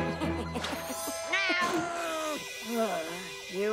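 A voice-acted cartoon cat yowls and meows in sliding, wavering cries, mixed with animated character speech in a kids' cartoon.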